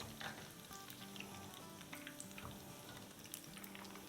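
Boondi batter fries in hot oil for sweet ladoo, giving a soft, steady sizzle with scattered crackles and pops, close and continuous, with no talking.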